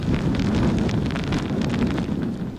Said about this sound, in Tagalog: Sumisipol ang malakas na hangin sa Manila Bay sa Roxas Boulevard